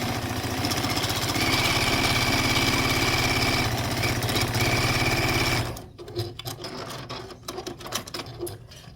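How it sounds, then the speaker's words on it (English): A sewing machine stitches two quilt blocks together along a 1/4 inch seam, running in a loud steady whir for about six seconds before stopping, followed by a few faint handling clicks and rustles. "I'm just now sewing these 2 together"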